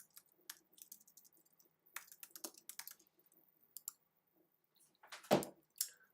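Keys tapped in scattered bursts and single clicks on a computer keyboard while entering names into a form, quiet and close, with short pauses and a louder thud near the end.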